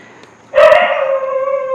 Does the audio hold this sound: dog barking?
yes